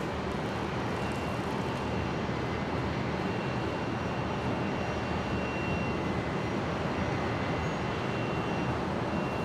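An Airbus A350-900 airliner at Brisbane airport, its engines giving a loud, continuous broadband roar that holds steady throughout, heard from a distance outdoors without voices.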